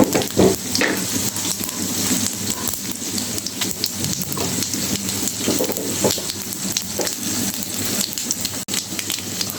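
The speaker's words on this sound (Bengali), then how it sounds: "শুকনো মরিচগুলো ভাজা হয়ে গেছে" Dried red chillies frying in hot oil with mustard seeds while cooking dal for a Bengali fish curry meal, a steady dense crackling sizzle with scattered pops throughout, close and fairly loud, no talking.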